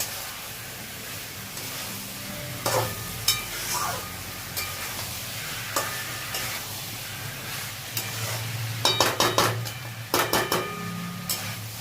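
Spice masala for jackfruit biryani sautéing with a splash of water in a pan, a constant low hiss and sizzle broken by sharp clinks and scrapes of a spoon against the pot.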